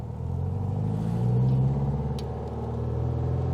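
A custom 1966 Volkswagen Beetle engine accelerating: a steady, loud, close mid-pitched drone from inside the car that swells briefly as the throttle opens, then holds.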